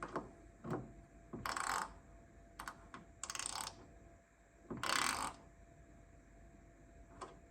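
A ratchet wrench with an 8mm socket tightens bolts while a rear louver goes onto an S550 Mustang, giving repeated bursts of close, loud clicking ratchet strokes with short pauses between them.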